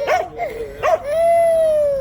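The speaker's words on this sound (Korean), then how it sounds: "짖지 마." A small dog gives a couple of sharp yips and barks close up, then a long, steady whining howl, loud and alone.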